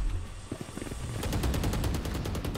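Machine gun fire in the video game Valorant starts as a few scattered shots, then settles into a steady, rapid, evenly spaced burst of about a dozen loud rounds running to the end, with no talk over it.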